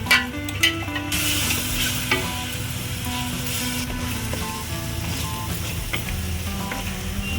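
A paste of fennel, cumin, ginger, dried chilli and cardamom sizzles loudly in hot oil while being stirred, with a dense continuous frying hiss and intermittent scraping of the spoon across the pan.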